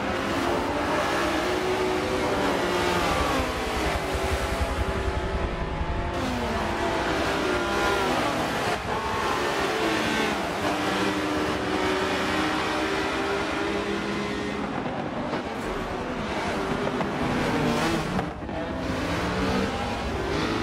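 Race car engines roar at the start of a race at Circuit de Catalunya in the video game Forza 7, a loud, continuous drone of revving and shifting with no pause.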